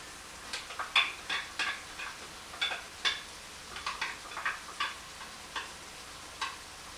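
Chopped onion drops into a hot pan for shepherd's pie, giving a soft sizzle punctuated by a string of sharp, close clicks and scrapes as it is stirred.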